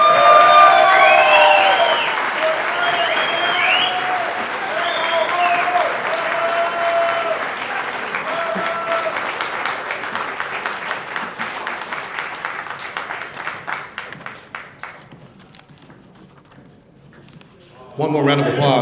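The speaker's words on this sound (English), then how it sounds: "One more round of applause for Mr. Ralph Valle." Sustained applause from an audience at a California Wrestling Hall of Fame Lifetime Service Award presentation, loud and dense at first, then thinning into scattered claps before a brief final swell.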